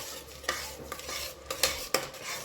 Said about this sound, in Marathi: पाणी टाकल्यानंतर मिक्स करून घ्यायचे